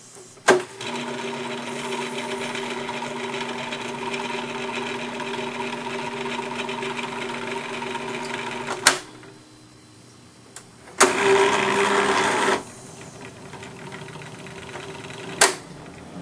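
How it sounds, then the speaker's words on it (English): Emerson reel-to-reel tape recorder running in fast forward: a steady mechanical whir with a rattling buzz from the loose reels, sharp clicks as the machine is switched, then a quieter pause and another short burst of winding noise. "the reels will rattle. Notice the sound as I put it into fast forward."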